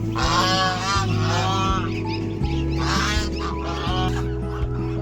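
A flock of ducks honking and quacking loudly and continuously, close by, with overlapping calls over a low mechanical hum.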